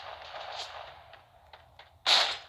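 Video game gunfire during a shooter match: a sustained burst of muffled shots fading out, a couple of faint pops, then one sharp, loud close blast at the end.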